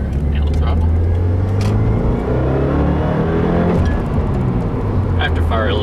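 A 2015 Subaru WRX with a stage 1 map, engine revving under throttle in second gear, a loud sustained rising drone heard from inside the car with no talking.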